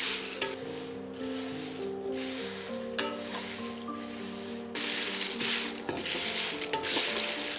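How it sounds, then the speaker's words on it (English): Chilies with a light sprinkle of salt stirred in a dry pan over medium-low heat, a steady soft sizzle with scraping and rustling stirs throughout, close and fairly quiet, with no talking. "On medium-low heat, in goes the chilies in a dry pan."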